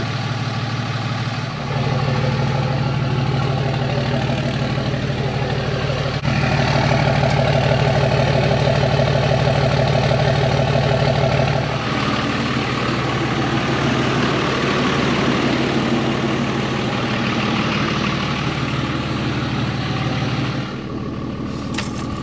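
Truck engine idling steadily after a cold start, a close, continuous low rumble that steps up as the RPM rises partway through, with no talk over it.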